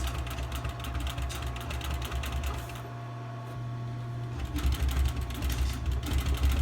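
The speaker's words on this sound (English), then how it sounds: "So I'm going to sew this on, and then I'll be putting the large beading onto this afterwards." A sewing machine stitches foam onto Buick Riviera seat upholstery, giving a fast steady mechanical chatter that pauses briefly midway and then resumes, moderately loud with workshop hum underneath.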